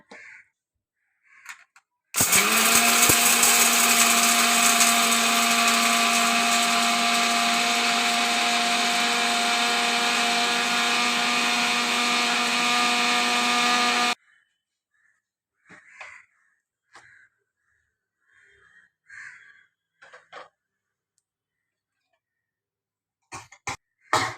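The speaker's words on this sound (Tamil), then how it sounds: "மிக்ஸி பண்ணிக்கலாங்க." A mixer grinder whirs loudly and steadily for about twelve seconds, then cuts off, followed by scattered light clinks and knocks.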